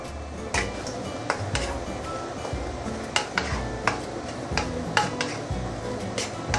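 Taiwanese three cups chicken stirred in a pan just off the heat: a spatula scrapes and taps the pan in repeated sharp clinks over a soft underlying sizzle, with no talking.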